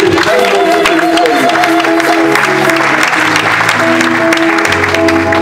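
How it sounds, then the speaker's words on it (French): A church congregation at a wedding service claps and cheers together, a loud sustained wash of applause with voices, while sustained musical tones continue underneath throughout. "Acclamons encore le Seigneur"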